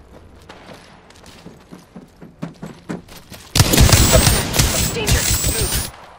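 Gunfire in Apex Legends: scattered, rapid shots crack at first, then a loud burst of sustained heavy firing and impacts erupts midway and continues. A voice briefly shouts.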